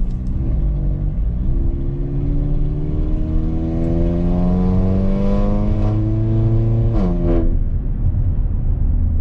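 Mercedes GLA45 AMG driving in comfort mode with a tuned transmission, a loud engine drone rising steadily in pitch through acceleration, then dropping at a gear change and climbing again.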